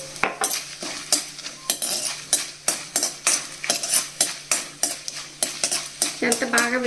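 Curry leaves and spices fry in a pan, with a spoon stirring and scraping in a steady rhythm of sharp clinks over a soft background sizzle, close and fairly loud.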